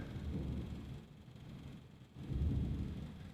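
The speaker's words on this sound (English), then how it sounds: "can you guys hear the thunder?" Thunder rumbles outside in two low, rolling swells, the second heavier and closer, faint and muffled as if heard from indoors, with no talk over it.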